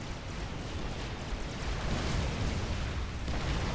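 Cerberus turret fire in the Forged Alliance Forever strategy game, a continuous rumbling barrage of overlapping booms and bursts at steady loudness, dense and noisy with no clear gaps.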